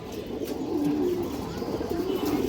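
Old-bloodline pigeons coo close by in a steady run of soft, gurgling low calls, one rolling coo standing out early and others layering behind it.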